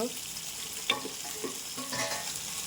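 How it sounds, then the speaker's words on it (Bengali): Meat sautés in a pan, a steady close sizzle broken by a few sharp spatula scrapes and clicks as it is stirred, with soft music underneath. "মাংসটাকে কষাচ্ছি"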